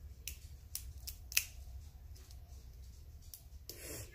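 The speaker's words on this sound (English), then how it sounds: "So I need to get the zipper." A stiff zipper is worked open with effort, giving faint, sparse scrapes and sharp little clicks spread out in time, ending with a longer rasping pull, all quiet and close against a low background hum.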